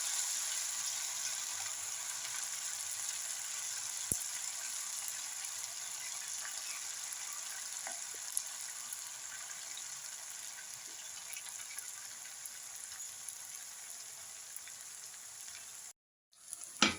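Bitter gourd chips deep frying in hot oil, a steady close sizzle holding evenly for about sixteen seconds before cutting off abruptly, with a few faint clicks.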